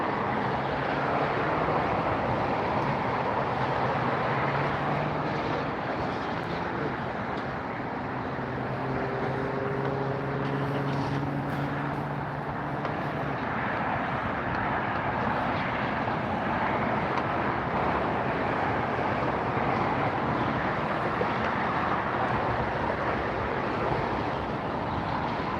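A Finnair airliner at LAX gives off a continuous, distant jet rumble with a brief tonal whine in the middle, steady and unaccompanied by voices.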